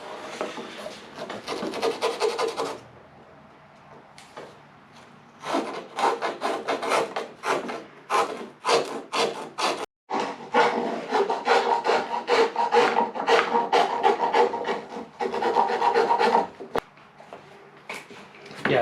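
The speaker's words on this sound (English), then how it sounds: "And I just use a coarse file on it after to tidy them up." A coarse file rasps back and forth along the rough cut edge of a hole in a door panel, with steady, close, rhythmic strokes that pause briefly between bursts.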